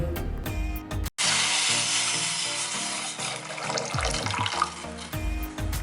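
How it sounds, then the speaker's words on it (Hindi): Water pours from a tap into a cooking pot, a loud steady splashing gush that starts after a brief gap and runs on nearly continuously, with kitchen sounds at the edges. "उसमें 1 कप पानी डालेंगे।"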